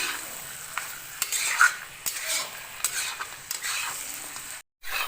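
Chicken sizzles steadily in a pan while a utensil scrapes and stirs it in irregular strokes, close by, with a brief gap near the end.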